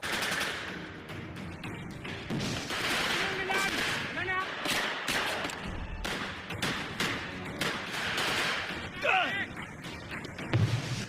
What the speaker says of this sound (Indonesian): terjadilah kontak senjata